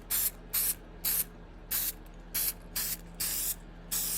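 Repeated short bursts of black spray paint hiss around the headlight area of a 1995 Impala SS, about eight even blasts separated by brief pauses, close and steady with no talking.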